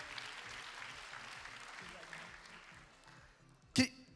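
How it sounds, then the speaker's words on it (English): Audience applause rises as couples are called up to the stage at an event, moderate and fairly distant. It fades toward the end under a voice, and a sharp loud knock lands near the close. "Let's clap for them."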